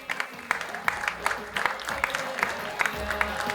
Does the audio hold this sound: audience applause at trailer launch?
yes